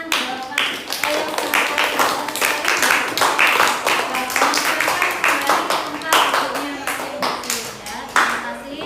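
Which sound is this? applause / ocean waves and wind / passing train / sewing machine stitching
applause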